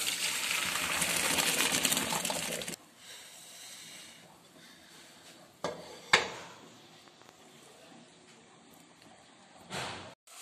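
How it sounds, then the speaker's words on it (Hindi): Water from a pot of boiled rice gushes out in a loud steady pour for a few seconds, followed by quieter clinks of the pot and lid, then a short splash near the end. "अब हम इनको ड्रेन कर लेते हैं, इनका पानी ड्रेन कर लेते हैं।"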